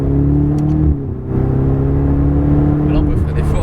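A Ferrari F488 accelerates on a wet circuit, its engine a loud, sustained drone with steady harmonic tones, briefly dipping during a gear change before pulling on strongly, heard close up from inside with tyre spray hiss.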